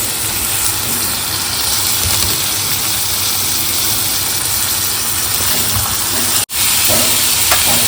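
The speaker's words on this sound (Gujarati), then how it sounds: "જુઓ ડુંગળી થોડી સતરાઈ ગઈ છે એટલે હું આમાં કંટોલા નાખી દઈશ" Spiny gourd pieces added to lightly sautéed onions in a pan, giving a loud, steady frying hiss that cuts out abruptly for an instant before resuming.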